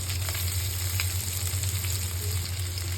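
Chopped onion hitting a pan of nearly dry mutton bhuna, frying with a loud, steady, close-up sizzle that stays even throughout.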